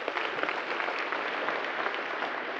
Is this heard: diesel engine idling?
no